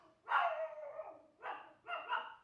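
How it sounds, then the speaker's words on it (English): A dog barks indoors, three fairly faint, hoarse barks at moderate distance, the first longer and the last two in quick succession. "This dog."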